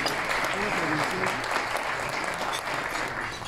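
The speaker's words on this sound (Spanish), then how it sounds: "Un aplauso para ambos" An audience at a 2019 awards ceremony breaks into sustained applause, a thick continuous patter of many hands with a faint voice briefly audible underneath.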